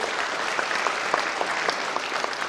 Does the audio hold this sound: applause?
yes